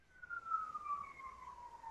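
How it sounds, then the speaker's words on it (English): A police siren on a New York City street wails faintly in the distance, a single falling tone that sweeps slowly downward over a couple of seconds. "You can hear the siren in the background."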